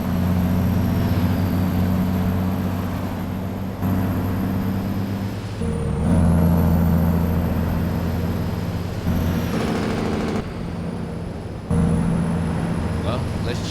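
Freightliner Coronado truck driving in American Truck Simulator, a steady loud low diesel drone with a high whine that dips near six and ten seconds at gear changes, the engine note stepping between shifts, with someone talking.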